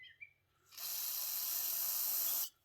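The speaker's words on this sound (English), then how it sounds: "Just a little spray through there." A single steady hissing spray burst of about two seconds through a part of a 6 HP Tecumseh engine, loud and close, starting abruptly and cutting off sharply after a faint click.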